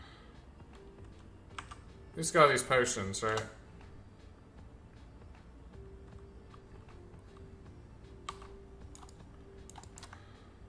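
Rapid, close computer keyboard typing fills a quick burst of keystrokes, followed by scattered faint clicks, while a person speaks briefly during a Diablo 4 play session.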